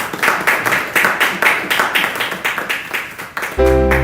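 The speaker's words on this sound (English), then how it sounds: "I'd like us to welcome with a round of applause the General Manager for Yali TV, Mr. Stephen Selassie Asu" Audience at an Africa expo opening session giving a round of applause: rhythmic, fairly close clapping with regular beats, ending in a sudden tonal hum.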